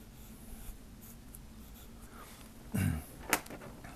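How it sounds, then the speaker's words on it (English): A colored pencil scratches faintly across paper in soft, steady strokes, broken by a brief louder rub and a sharp tap near the end. "Good thing we have a colored pencil hanging around here."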